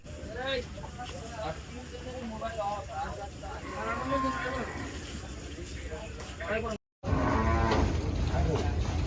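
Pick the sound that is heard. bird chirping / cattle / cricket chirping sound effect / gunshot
cattle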